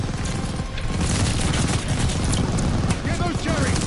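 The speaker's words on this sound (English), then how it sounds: "Watch that machine gun!" Sustained machine-gun fire and explosions rattle through a Call of Duty Vanguard battle scene, loud and dense, with rapid bursts layered over booming impacts and shouted voices in the mix.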